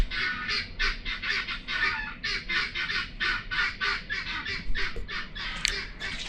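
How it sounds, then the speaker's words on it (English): Guinea fowl call in a rapid series of harsh, rhythmic, cackling bursts, loud and close, repeating steadily over a low outdoor background. "a group of guinea fowl are actually called a confusion"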